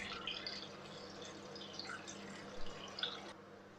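Water is poured into a pan holding chicken, making a steady close splashing and trickling that keeps going throughout and stops abruptly near the end.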